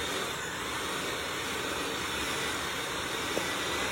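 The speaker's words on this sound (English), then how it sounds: "we're gonna get in here with our hand mixer" A hand mixer whirs steadily through pimento cheese made with softened cream cheese, a loud continuous motor drone with no pauses.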